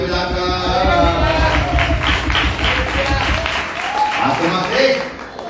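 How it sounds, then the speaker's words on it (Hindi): A church congregation claps along in steady rhythm at a Hindi worship service, the hands pattering loudly and continuously beneath a voice speaking over them. "ताली बजाकर"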